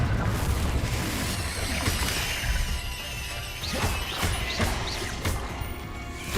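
Repeated spell blasts in Hogwarts Legacy, loud crashing booms and whooshing impacts bursting one after another during combat, dense and continuous with no talking.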